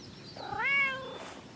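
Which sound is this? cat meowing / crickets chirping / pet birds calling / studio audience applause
cat meowing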